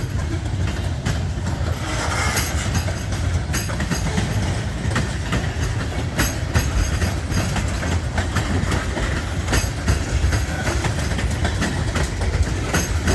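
Freight train with an old Canadian National car rolling past on a hill, a loud, steady rumble of wheels and wagons with rhythmic clickety-clack and engine drone throughout.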